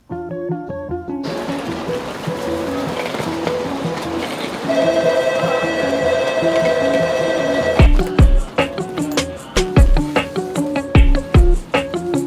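Riding a Japanese bullet train bound for Kyoto: a steady rail rumble with tonal hum fills the space, then rhythmic heavy thumps of wheels on track pass close and loud.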